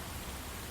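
Rain ambience, a dense, even hiss of steady rainfall with no distinct drops standing out, heard alone and briefly.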